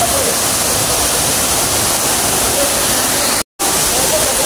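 Lansones Falls in Siniloan, Laguna, a small, simple waterfall of cold water, pours with a loud, constant close-up rush that drops out for a moment near the end.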